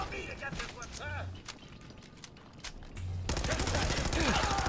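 Rapid bursts of gunfire from the Fallout 4 video game fire down a hallway, short clustered volleys giving way to a denser, louder stretch of shooting near the end.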